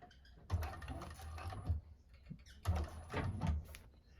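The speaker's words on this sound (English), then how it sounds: "we're going to sew across the bottom" A 1341 cylinder arm sewing machine stitching across the bottom of a bag, heard as two close bursts of rapid mechanical needle chatter separated by a short pause.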